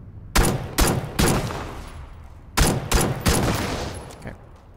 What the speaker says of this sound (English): I'm just gonna shoot out the tires.